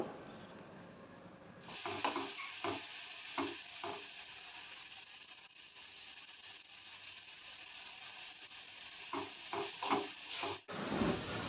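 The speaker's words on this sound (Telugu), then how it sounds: "ఇప్పుడైతే నేను కాకరకాయలు ఫ్రై చేస్తున్నాను" Bitter gourd frying in a pan gives a continuous hissing sizzle, broken by bursts of spatula scraping and stirring near the start and again toward the end.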